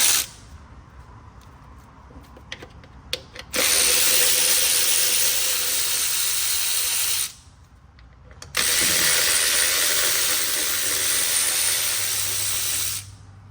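An electric ratchet spins out transmission pan bolts on a 2016 BMW X5 3.0 Turbo with a ZF 8-speed, two long loud whirring runs after a few light clicks, close and harsh.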